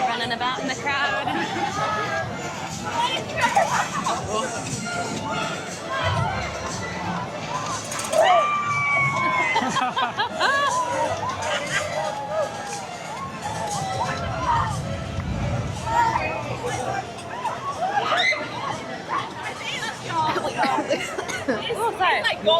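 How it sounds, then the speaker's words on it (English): Crowd at Halloween Horror Nights, Universal Hollywood: steady babble of many voices with occasional shouts, cheers and laughter, nearby people talking over the dense hubbub throughout. "Running about in the crowd."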